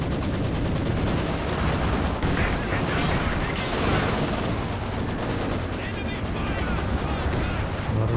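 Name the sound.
gunfire and anti-tank guns in Company of Heroes 2 video game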